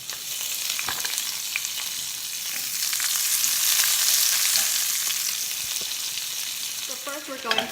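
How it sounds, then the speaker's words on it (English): An onion frying in olive oil in a pan, a loud, close, steady sizzle that swells in the middle, with a few stirring knocks and clicks toward the end. "I'm gonna fry my onion in here now"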